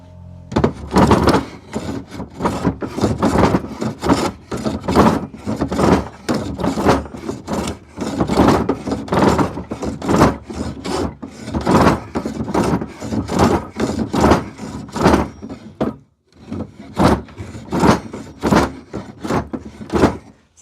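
Wooden desk drawer being shaved down to loosen it, giving a steady run of close, loud rasping strokes in rapid rhythm with a brief pause near the end.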